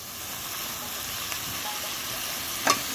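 Tomatoes added to a pan for egg curry, cooked over a wood-fired stove, give a steady, faint, even hiss of frying with one brief clink near the end.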